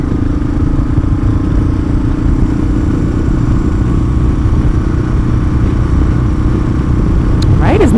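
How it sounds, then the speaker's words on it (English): A motorcycle ridden on the road after an upshift, a steady loud engine drone with wind rush throughout, ending with a brief rising whine as the revs climb. "Off the throttle and on the clutch, semi-simultaneously. Pull up on the gear shift."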